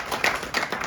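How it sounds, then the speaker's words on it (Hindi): A brief burst of audience applause, several hands clapping together in a short, moderately loud patter. "तालियां तो बजा दीजिए भाई"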